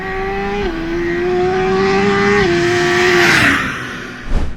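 A 2021 Suzuki Hayabusa sportbike accelerating hard on the road, its engine note climbing loud and close through quick gear changes, then fading into a rushing wind blast.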